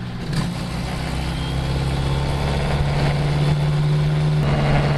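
A car engine, fitted with Radium fuel rails, runs steadily with a low hum and rises slightly as the throttle is tapped in. No one speaks.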